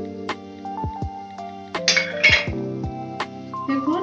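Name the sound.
spoon clinking while mixing flour into cauliflower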